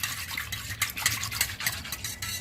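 Curd being stirred into buttermilk with cold water in a bowl, heard as a steady wet swishing and scraping with soft irregular clinks, close and continuous, with no talking.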